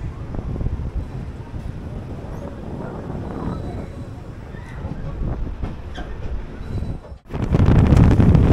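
The Dhauli Express pulling out of Khurda Road Junction: steady loud rumble of the moving train with wind buffeting the microphone, then a sudden louder roar near the end.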